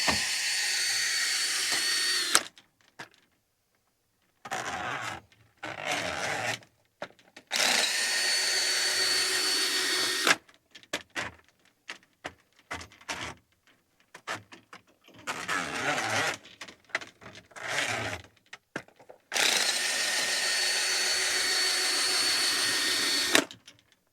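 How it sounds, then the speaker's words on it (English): A plumber's drain auger being backed out of a slow drain, its motor whirring in several loud bursts separated by short pauses, with no talk over it. "I've hit the end of my auger, so now I'm just going to start backing it up"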